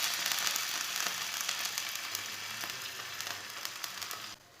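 Paratha made from a liquid jaggery batter sizzles steadily in an oiled pan, a soft, even crackle that runs throughout and cuts off abruptly at the end.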